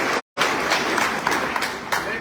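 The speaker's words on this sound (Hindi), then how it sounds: "उन सब के लिए तालियां जो है बजानी।" Crowd applause at an outdoor political rally for farmers in Bijnor, a dense, loud burst of clapping that drops out briefly near the start, then continues steadily to the end.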